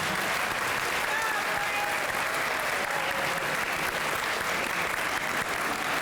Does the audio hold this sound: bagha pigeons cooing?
no